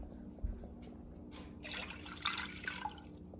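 Tap water runs into a cooking pot being filled for boiling pasta, starting with a few faint drips and then swelling into a steady splashing pour for the last couple of seconds, close and moderately loud with no talking.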